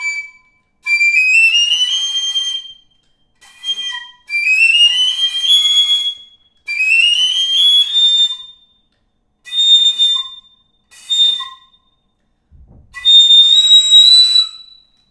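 A Trevor James 5x piccolo plays a series of bright, piercing high notes, some swooping upward, in short separate phrases with brief silences between, close and loud with no talking.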